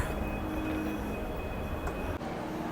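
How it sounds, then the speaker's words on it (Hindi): Metro train at a station in Shenzhen, China: a steady, moderately loud rumble of the train and station with a thin high electrical whine, continuous throughout with one brief dip near the end. "ये देखो भाई मेट्रो स्टेशन चाइना का"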